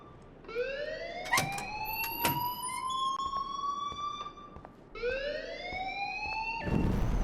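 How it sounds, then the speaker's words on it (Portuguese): A rising, wailing siren-like alarm in the video game Life Is Strange Remastered sweeps upward twice in long whoops over a steady background hum, loud and continuous with no voices. "please turn off that alarm since that's your job"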